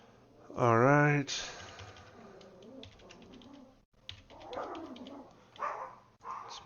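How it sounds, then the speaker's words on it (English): A small dog lets out a sharp bark in the background, followed by softer whines and yips, while someone talks through the rest and keys click faintly. "It's my dog in the background."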